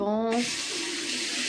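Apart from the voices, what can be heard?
water running while rinsing the face with a sponge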